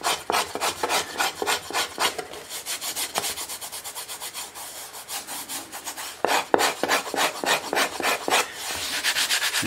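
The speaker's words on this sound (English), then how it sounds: "you can can pull that out of there with this scraper" Wood scraper shaving the top of a Massachusetts mandolin, a steady close run of rapid rasping strokes in even rhythm with a brief pause and a renewed burst.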